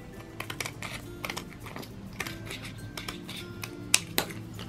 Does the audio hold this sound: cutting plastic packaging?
yes